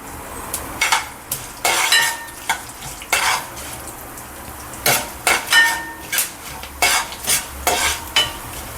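Urad dal frying in hot oil while a spoon stirs it, producing a repeated rhythm of loud metallic scrapes and clinks against the pan over a steady sizzle, close up.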